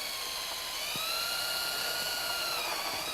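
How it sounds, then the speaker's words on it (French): A power screwdriver drives a screw into a wooden deck board, a steady high-pitched motor whine running continuously at close range. "Donc je commence à visser"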